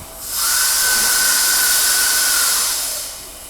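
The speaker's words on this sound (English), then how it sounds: "a dump valve that's stuck open, venting gas to the tank battery" Pressurized gas hisses loudly and steadily through a stuck-open dump valve venting to a tank battery, with a high whistling tone, rising in quickly and tapering off after a few seconds.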